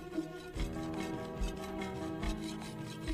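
A katana blade is polished by hand on a fine Japanese polishing stone, giving repeated raspy rubbing strokes in a steady rhythm, close and fairly soft, with no voices.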